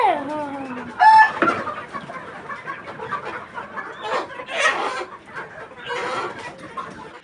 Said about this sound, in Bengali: কক কক ধরে নিয়ে যাচ্ছে